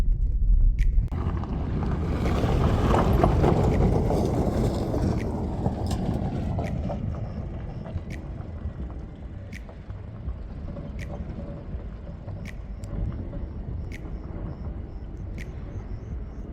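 A 2017 Suzuki Baleno rolls over a gravel road, a steady, loud broadband rumble of tyres and cabin noise with sharp intermittent ticks from stones striking the car, easing slightly partway through and continuing without any voices.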